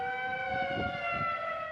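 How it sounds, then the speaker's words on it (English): A steady wailing tornado siren holding several tones at once, sounding from a distance over low background rumble in Adamsville, Tennessee. "We have tornado sirens going off in Adamsville."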